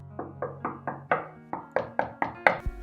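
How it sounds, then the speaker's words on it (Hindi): A door is knocked on in a steady series of about ten crisp raps, moderately close, with a short pause partway through and a low thump at the end. "दरवाजे पर दस्तक होती है।"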